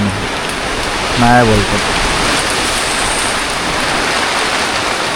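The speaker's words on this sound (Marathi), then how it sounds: "जोरदार पावसाला सुरुवात झालेली आहे" Heavy rain pours down in a broad, steady hiss, loud and continuous throughout, with a brief spoken phrase near the start.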